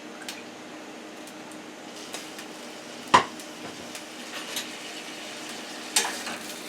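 A frying pan with a drop of olive oil in it is handled before link sausages are fried, giving a faint low sizzle with a sharp metallic clank around the middle and a few lighter knocks later.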